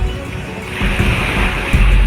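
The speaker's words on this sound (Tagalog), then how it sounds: "lakas ng alon" Strong sea waves surging at high tide on Manila Bay after a storm, a loud continuous wash of water with heavier swells rolling in close, no talk over it.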